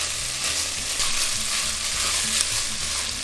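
Octopus ragù stir-frying steadily in a pan, a dense continuous sizzle with low clattering stir movements running throughout, close and fairly loud with no voices.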